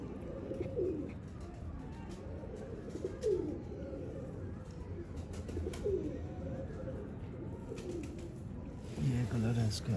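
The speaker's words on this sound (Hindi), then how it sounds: "ये माशाल्लाह बड़ा नफीस कबूतर है, गेम वाला।" A game pigeon coos in soft repeated low phrases close by, with other pigeons calling faintly and a brief louder flurry of cooing near the end, under light background noise.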